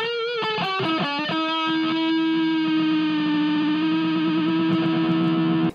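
Electric guitar played through a Line 6 Spider V 60 MkII amp, loud and close: a few quick strummed, distorted chords, then one chord left ringing and sustaining steadily to the end, with no voices.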